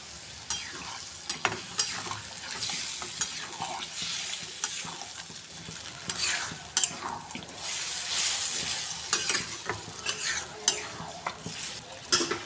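Jackfruit and potato curry being stirred in a pan, with a steady sizzle and irregular scrapes and clinks of the spoon against the metal, close and continuous, with no talk.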